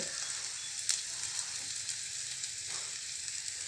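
Onions fry in a pan for green brinjal poriyal, giving a steady, even sizzling hiss close by with a faint clink of stirring, no talk over it.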